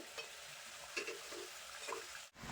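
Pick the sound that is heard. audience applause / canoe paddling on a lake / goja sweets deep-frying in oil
goja sweets deep-frying in oil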